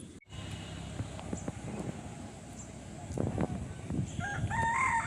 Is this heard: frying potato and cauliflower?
no